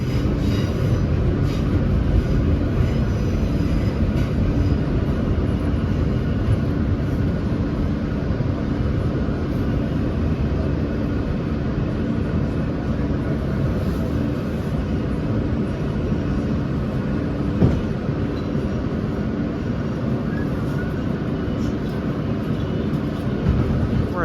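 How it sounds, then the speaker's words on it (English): A New York City subway train climbs from underground toward the elevated Smith–9th Streets station in Brooklyn, producing a steady, loud rumble and rattle of railcars with occasional faint wheel squeals, heard from on board. "our train had to climb quite a bit to reach Smith 9th."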